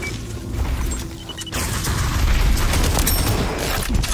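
A frag grenade blows up in a video game firefight, a loud, dense blast and rumble with crackling debris and scattered gunfire that carries on for several seconds.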